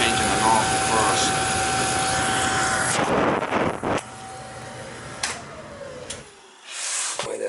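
A Beckett oil burner with a failing pump runs with a loud, steady roar and a thin, high whine over it, then the noise drops and shifts as it winds down.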